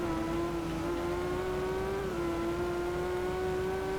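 A Kawasaki Z800 motorcycle engine in the racing game Ride 2 holds a steady, loud high-revving drone throughout, with a slight pitch rise and a brief shift in tone midway.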